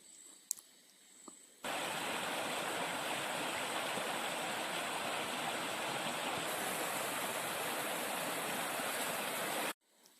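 A forest river at Nedumkayam rushes in a steady, loud, unbroken wash of flowing water that starts abruptly and runs for about eight seconds before cutting off, with no voices over it.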